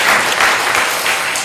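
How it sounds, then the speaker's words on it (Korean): Loud, sustained congregation applause in a church honoring the accompanists, a dense, even roar of many hands clapping close by without pause. "너무 박수 한번 해주세요."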